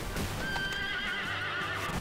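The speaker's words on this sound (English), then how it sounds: "Sleipnir, Odin's horse from Norse mythology" Sleipnir, Odin's eight-legged horse from Norse mythology, whinnies loudly in Final Fantasy VIII, a single drawn-out neigh with clip-clopping hooves beneath, filling the whole two seconds.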